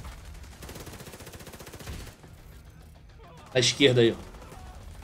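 Gunfire in The Division 2 during the Warlords of New York expansion: a rapid, fairly faint burst of automatic shots early, then quieter stretches as players talk, with two louder voiced bursts near the end.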